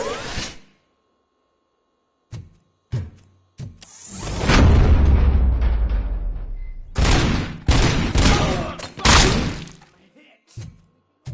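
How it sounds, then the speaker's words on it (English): Gunfire crackles in Dead by Daylight: a few sharp isolated cracks, then a sustained loud rumbling burst, followed by a rapid cluster of close, harsh shots and scattered trailing hits. "Am I hearing gunshots?"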